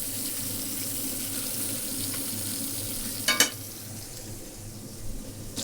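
Mutton sizzles steadily in a pan with garlic, rosemary and rapeseed oil during a cookery demonstration at the Royal Highland Show, a continuous close frying hiss with a brief sharper burst of crackle partway through.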